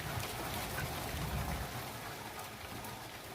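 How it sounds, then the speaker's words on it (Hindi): Steady rain falling in the Uttarakhand mountains, an even broadband wash of drops with no pauses, fairly soft and close, heard alone without voices. "the rain has just arrived"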